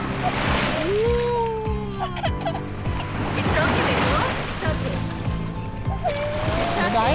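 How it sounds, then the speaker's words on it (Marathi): Ocean waves wash and splash onto a Hawaiian resort beach in steady surges close by, under an adult's voice and a voice talking throughout. "That's big wave."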